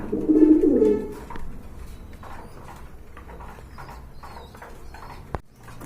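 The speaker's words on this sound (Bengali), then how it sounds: "এটা কিন্তু পাকিস্তানি টেডি কবুতর" Pakistani teddy pigeons cooing close by, a strong burst of low coos at the start, then softer intermittent calls with faint rustling and a brief knock near the end, no speech.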